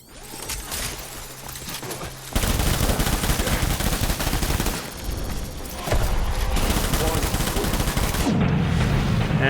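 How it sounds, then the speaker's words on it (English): Sustained bursts of assault rifle fire in the video game Death Stranding, loud and dense, with long automatic volleys separated by short pauses and a brief quieter stretch near the start. "Switch to assault rifle."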